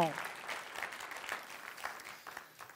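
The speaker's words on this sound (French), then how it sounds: "Comment un autre bon applaudissement pour ça." Church congregation giving a round of applause during a prayer service, a soft, distant patter of many hands that gradually thins out.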